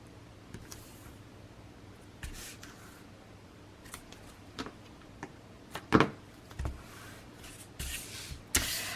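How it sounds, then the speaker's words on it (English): Tim Holtz Tonic scissors cut through material at a craft work station, giving a handful of sharp, scattered snips that grow a little denser toward the end, close and quiet with no one speaking. "These are Tim Holtz tonic scissors."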